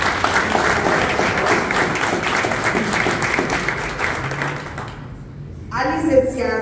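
Audience applause fills an office inauguration in Tultitlán: a dense, steady wash of many hands clapping that fades after about five seconds, followed by a voice speaking.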